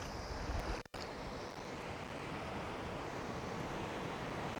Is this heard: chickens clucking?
no